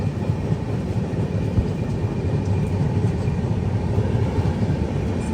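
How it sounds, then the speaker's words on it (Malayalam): Steady, loud rumble of the Humsafar Express rolling through Karnataka farmland, a continuous close wheel-and-carriage drone with no break and no voices. "കർണാടകയിലത്തെ അടിപൊളി കൃഷിയുള്ള ഒരു ഭാഗത്തേക്കൂടെയാണ് ട്രെയിൻ കടന്നു പോകുന്നത്."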